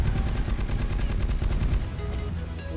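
Sustained automatic fire from a silver MG3 machine gun in CrossFire's Zombie mode, a rapid, steady stream of loud close shots rattling for nearly three seconds with no pauses.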